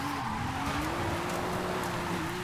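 A car drifting with its tires skidding in Forza Horizon 5, a front-engine, rear-wheel-drive car with a low setup: a steady, sustained tire squeal over a constant engine drone, loud and unbroken throughout.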